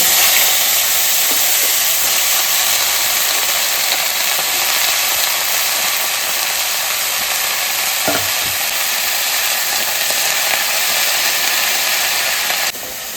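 Leafy greens sizzle in a hot pan as they are added and stirred, making a dense, even frying hiss with occasional scrapes, close and loud throughout, with no voices.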